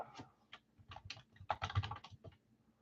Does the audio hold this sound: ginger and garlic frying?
no